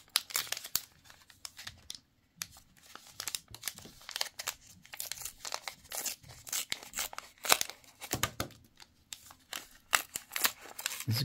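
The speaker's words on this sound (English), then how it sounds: "Let's open another pack." Foil wrapper of a Star Wars Unlimited trading card game booster pack crinkling and tearing open up close, a steady run of sharp rustles and crisp rips with brief pauses, no talking.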